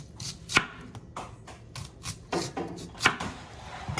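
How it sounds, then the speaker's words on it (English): Knife cutting onions for onion rings, irregular chopping strikes on a board with soft slicing and rubbing between them, close and fairly quiet, no voices. "cut the onions."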